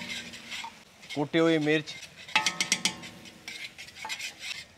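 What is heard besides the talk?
stirring and frying chicken filling on medium flame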